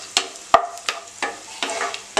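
Raisins fry in a pan while being stirred, giving a steady close sizzle broken by about half a dozen regular scraping strokes.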